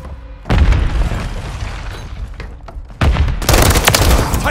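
Gunfire and explosions in Call of Duty: Modern Warfare III multiplayer: a loud boom opens, rolling battle noise follows, then a second heavy blast hits, all dense, close and continuous with no talk.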